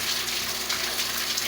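Fresh water gushes steadily into a concrete fish pond being refilled after the dirty water was drained, a continuous close hiss and splash with no talking.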